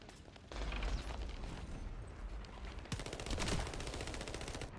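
Rapid gunfire in the video game The First Descendant shoots at floating eyeball enemies. The continuous crackling bursts are loud and close, and mechanical clatter and impacts are mixed in.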